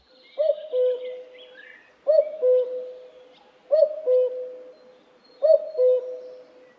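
A cuckoo sings its mating call, a descending two-note interval like a doorbell, repeated four times at a steady pace, clear and fairly close against a silent background.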